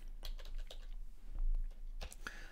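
A keyboard shortcut tapped out on a computer keyboard: a few quick, quiet keystrokes clicking close by in a hushed room.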